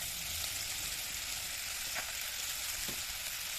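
Green chili, onion and garlic frying in a pan, a continuous broad sizzling hiss at moderate level with a couple of brief stirring scrapes, no talking.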